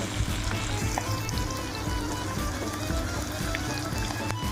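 Egg mixture frying in a pan, a steady broadband sizzle with faint scraping and clinking, fairly close and continuous throughout with no voices.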